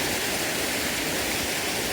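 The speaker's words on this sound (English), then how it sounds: "Water through that one, water through that one, a little bit of water in that one" Loud, continuous rushing of water pouring through the chutes of a railway track culvert, a steady close roar with no pauses or voices.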